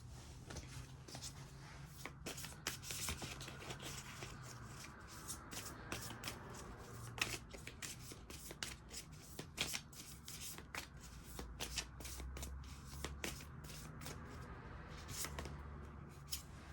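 Tarot cards are shuffled quietly and steadily for about seventeen seconds, with soft riffling and repeated card slaps close by and no talking.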